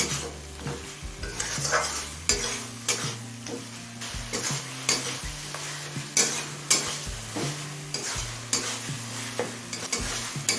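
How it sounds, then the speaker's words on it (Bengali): Chicken mince mixed with spices sautéed in a pan for a chicken and green pea ghugni, busy stirring and scraping over a continuous sizzle, with repeated sharp spatula knocks, close and loud with no voices. "চিকেন কিমাটা মশলার সাথে ভালোভাবে মিশিয়ে নিলাম এবারে সব কিছু খুব ভালোভাবে কষিয়ে নেব"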